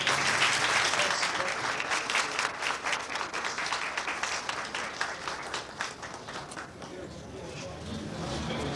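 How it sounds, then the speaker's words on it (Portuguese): An audience at the inauguration of the Sala Dival Pitombo breaks into sustained applause, strong at first and then thinning into looser, more distinct claps, with voices talking underneath. "Eu pedi uma salva de palmas para a nossa"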